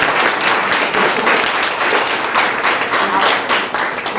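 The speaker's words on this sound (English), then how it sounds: "I want to applaud you young people" An audience at a live event applauding young people, loud, continuous clapping from many hands with a steady, close, crowded texture throughout.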